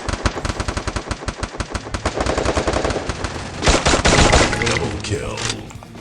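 Rapid machine-gun bursts in the video game Free Fire, a fast even rhythm of loud close shots that blurs into a denser volley, then trails off into quieter effects.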